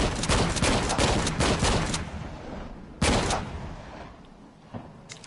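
Pistol shots in Shadow of the Tomb Raider ring out as loud, close, rapid reports in a quick burst, then a single sharper shot after a pause, with echoing tails and no talking.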